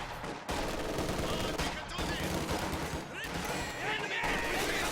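Machine gun fire in the strategy video game Company of Heroes 2, with dense repeated bursts and battle noise in short broken stretches, while a commentator talks over it.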